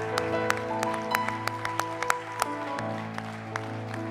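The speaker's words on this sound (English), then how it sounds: "let's clap our hands to the Lord one more time all across this place" A church congregation clapping hands during Sunday worship, steady rhythmic claps sounding over sustained organ or keyboard music and a busy, full room.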